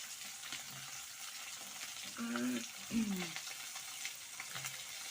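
Fish fries crisp in hot oil for a fish curry, giving a soft, steady sizzle heard at low volume. A brief voice-like tonal sound rises over it midway.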